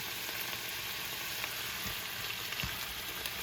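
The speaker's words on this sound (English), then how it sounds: "red peppers are still sauteing" Red peppers and a few pieces of garlic saute in a pan, giving a steady close hissing sizzle with occasional soft pops and no talking.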